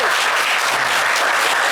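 A studio audience at an evening television game show bursts into loud, continuous applause, a thick unbroken wall of clapping close at hand.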